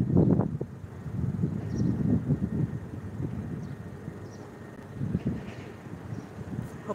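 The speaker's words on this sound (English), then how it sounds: "it's too windy out" Outdoor wind buffeting the microphone in uneven gusts, loud low rumbles that rise and fade over several seconds, with no talking.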